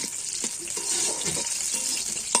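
Raisins and cashews frying in a pan of hot oil, a steady close sizzle with soft stirring scrapes and occasional small pops running throughout, no voices.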